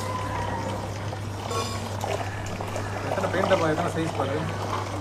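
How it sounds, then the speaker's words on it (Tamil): Water is poured into a container to dilute amirtha karaisal liquid fertilizer in a garden, a steady splashing trickle running under someone talking, with a constant low hum beneath. "இப்போ ஒரு 10 லிட்டருக்கு தண்ணி ஊற்றிடணும்"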